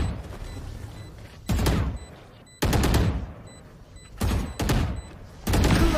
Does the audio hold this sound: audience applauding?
no